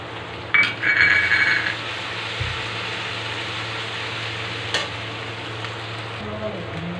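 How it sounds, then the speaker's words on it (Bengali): Ginger-garlic paste sizzles and fries steadily in a pan while being stirred, with a brief scrape of the spoon early on. A low hum of background noise runs underneath, close and continuous, without talk. "দিয়ে নেব আদা আর রসুন পেস্ট করে রাখা 1 চামচ"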